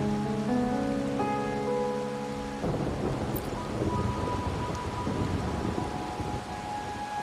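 Rain and rolling thunder in the video game Wuthering Waves, with steady rainfall filling the scene after a sustained tonal passage fades, a dense continuous wash heard alone with no voices.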